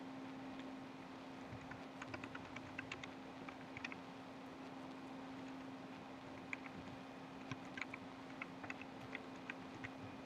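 Light keys tap on a computer keyboard in quick irregular bursts over a low steady electrical hum, quiet and close, with short pauses between runs of typing.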